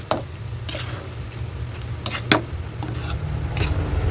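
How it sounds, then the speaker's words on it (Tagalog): A spoon stirs breadfruit simmering in boiling coconut milk, giving intermittent scraping knocks against the pot over a continuous low bubbling, close and moderately loud, without speech. "Halu-haluin lang natin ulit."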